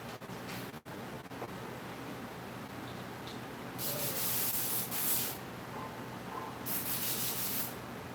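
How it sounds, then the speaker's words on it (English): An airbrush sprays a base coat onto a figure, a soft steady hiss that switches on in two bursts of a second or more each, close and quiet, with no talking. "I'll be using an airbrush to base him out"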